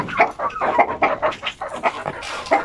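Chickens and a Peruvian game fowl rooster in a native chicken housing pen give a run of close, repeated clucks and calls that overlap one another with no pause.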